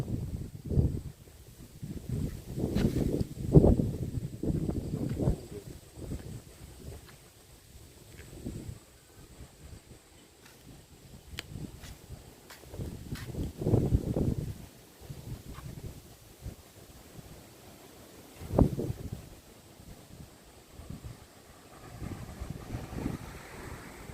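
Strong storm wind blows in heavy gusts, roaring and buffeting against the microphone, rising and falling in bursts over a steady low rush.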